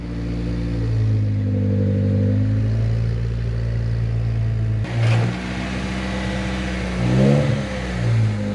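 A Honda Civic's engine idles with a steady low hum, then revs briefly and rumbles as the car pulls slowly out of a garage nearby.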